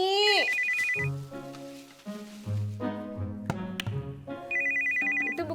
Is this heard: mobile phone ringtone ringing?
yes